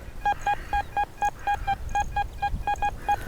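A metal detector on a Roman villa site gives a series of short, evenly spaced electronic beeps at a steady pitch, with a faint background hum, a trashy signal like a large ring pull.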